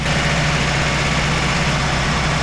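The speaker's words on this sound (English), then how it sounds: "So we still got that lifter tick, but that should still go away once it warms up." A 30-year-old Subaru Loyale engine idling close up, a loud steady rumble with a fast, even ticking from the valve lifters running underneath.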